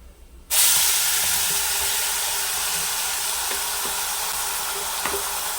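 A sudden loud sizzle as ground ginger, garlic and onion paste hits hot oil in a pan with cinnamon, cloves and cardamom for a dhaba-style chicken curry, settling into a steady, continuous hiss that slowly eases.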